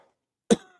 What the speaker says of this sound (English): got a bad cough at the moment.